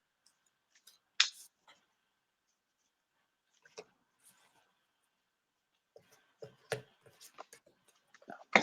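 Tarot cards from a Mermaid Tarot deck being shuffled by hand, heard as scattered soft riffles and clicks in two bursts separated by a quiet pause, with no talking.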